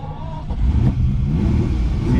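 A Ferrari 365GT 2+2 with a suspected fuel supply fault has its engine start and rev, a loud, close, low rumble that swells and holds steady for a couple of seconds.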